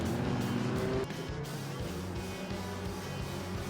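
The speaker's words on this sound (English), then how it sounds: "That's a full lock up there from Scarlet." A race car in Forza Motorsport 7 locks its brakes at Yas Marina, a steady loud engine drone blending with tire scrub that eases after the first second, while other cars roar nearby.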